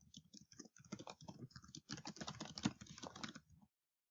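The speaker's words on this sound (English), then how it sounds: "So let me type something in." Steady keyboard typing of a short message, a quick run of light key clicks close to the mic for about three and a half seconds, then silence.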